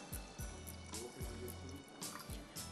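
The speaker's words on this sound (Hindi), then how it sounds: "इसमें आप बिल्कुल चिल्ड पानी डालिए" Chilled water poured into a spice and lemon juice mixture for a Hyderabadi pasanday recipe, a soft trickling and splashing fill heard faintly under a quiet kitchen background.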